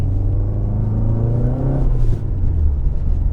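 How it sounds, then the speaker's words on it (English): A turbocharged Lancia Delta engine in a Fiat Coupe revs up hard with a deep, rising rumble and whir, loud and close, then settles into a steady drone. "Turbo sounds better. Turbo does sound better."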